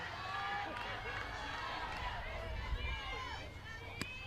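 Nashville softball fans at a state championship game react to a pitch, a steady roar of crowd noise with cheering rising and falling, while an announcer talks over it.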